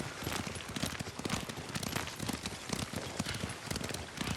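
Horse hooves pound steadily as a rider gallops in the video game Ghost of Tsushima, a dense, driving clip-clop that stays fairly loud and unbroken throughout, with no talking over it.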